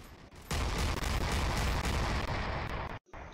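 A gun fires in the video game Aegis as a continuous, loud roar of rapid fire lasting several seconds, cut off abruptly near the end before resuming briefly.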